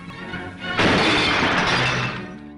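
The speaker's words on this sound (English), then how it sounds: "If you're old enough to remember the old-fashioned glass windscreens, this is what happened when you banged your nut." An old-fashioned glass car windscreen shatters with a sudden loud burst of breaking glass, and the crackling crash sustains for over a second before it thins out.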